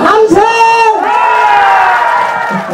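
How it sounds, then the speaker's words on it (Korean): Outdoor crowd at a comic pumba (gakseori) street performance shouting and cheering in a sustained roar, with light clapping mixed in, loud and close. "이쪽에만 박수 함성!"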